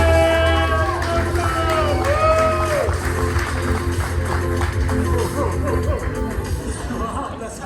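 Audience at the rooftop global debut of the 2025 Infiniti QX80 in New York claps and cheers, a loud crowd roar mixed with babble and music tones, tapering slightly toward the end.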